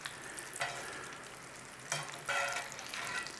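Vada pav fritters and batter scraps frying in hot oil in a pan, a steady close sizzle with a few louder scraping bursts of stirring, no voices.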